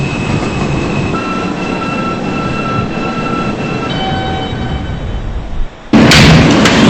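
Queens-bound New York subway E train running on the BMT Broadway Line: a loud steady roar of wheels and motors with faint squealing tones, then a sharp jolt as the noise suddenly rises near the end.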